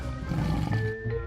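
Cartoon lion Sher Khan screams in a short, loud, strained roar-like cry with wavering pitch, heard alone for about a second.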